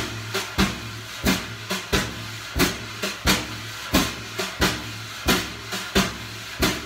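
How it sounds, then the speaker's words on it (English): A drum brush beats out a steady, repeating three-sweep pattern on a drum, each phrase ending in a crisp accent. The hissy swishes are clear and close, with no talk over them. "Now variation three with three sweeps for the bigger sound like this."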